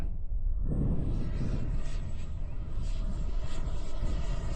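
A loud, steady roaring engine drone fills the whole clip, a radio-controlled model jet flying close by at an airfield with a broad rushing whine and no breaks.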